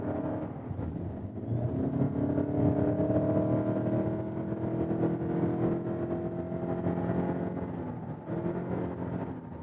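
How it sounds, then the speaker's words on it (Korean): A Lexus NX 300h hybrid four-wheel-drive SUV's engine drones from inside the cabin, a steady moderate hum that swells as the revs climb, with road noise underneath and no talk. "그 회전수가 높아지면서 소리가 많이 커지고요. 엔진 사운드가 꽤 들어오죠?"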